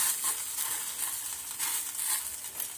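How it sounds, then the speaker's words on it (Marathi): A lacy jowar flour snack roasting on a hot pan after being flipped, a close, even sizzle swelling and easing in soft waves, with no voices. "आता ह्याला एका साईडनं पलटी मारूया आणि दुसरीकडे कडून देखील व्यवस्थित असं भाजून घेऊया"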